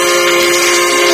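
A model train's steam whistle blasts very loudly as one sustained, steady, shrill tone that fills the whole short moment.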